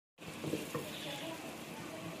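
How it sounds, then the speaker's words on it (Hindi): Steady crackling sizzle of onions frying in hot ghee, a dense hiss that begins abruptly and holds evenly throughout, close up with no talking. "प्याज और सिर्फ घी को तड़का लगा रही है"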